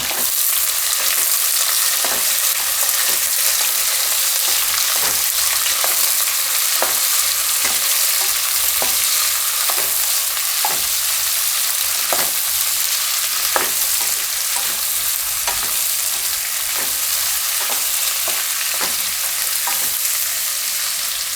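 Onions frying in hot oil with bay leaf make a loud, continuous sizzle, broken by regular scraping clicks of a spoon stirring through the pan.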